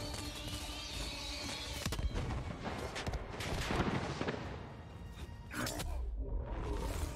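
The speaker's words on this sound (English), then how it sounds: "I will try another grenade" In the video game Dauntless, bursts of explosive blasts, whooshes and shattering crackles rise and fall over several seconds, dense and busy, with no talk over them.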